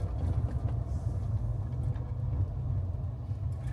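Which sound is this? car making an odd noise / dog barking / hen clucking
car making an odd noise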